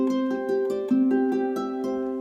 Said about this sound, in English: the left hand roving thumb against the right hand seesaws.